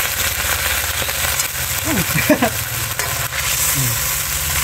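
Sardines sautéing in a pan outdoors, a continuous crackling sizzle with brief voices and movement noises over it.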